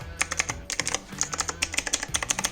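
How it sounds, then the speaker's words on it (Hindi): Rapid typing on a budget mechanical gaming keyboard with RGB keys: crisp, close clicky keystrokes in quick irregular bursts, with a short pause partway through and no voices. "ये जो आवाज़ है वो एक ट्रू मैकेनिकल कीबोर्ड की आवाज़ होती है"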